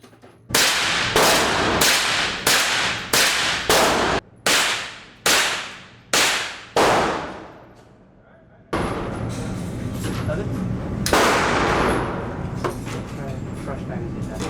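Sig 9mm pistol fired at a shooting range: eight sharp, loud, close shots in a steady string, each with a short ringing decay, then a long stretch of continuous clattering range noise.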